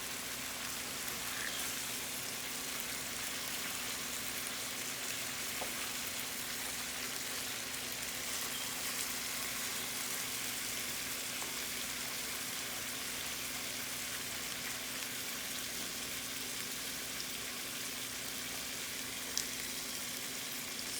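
Chicken tikka masala curry cooks down in a pan until dry and browned, giving a steady, soft sizzle and bubbling hiss that runs unbroken and fairly faint throughout, with no talking.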